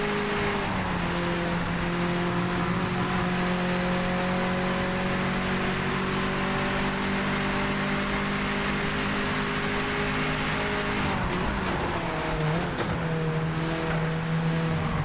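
A race car engine in the racing game Project Motor Racing holds a steady high drone under load, with a brief dip and shift in pitch near the end, heard alone without talk.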